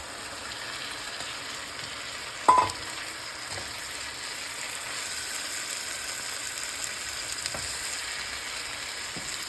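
Okra being stirred back into a reduced tomato stew in a pan, with a soft, steady simmering sizzle and a brief clatter of a utensil early on, no talking.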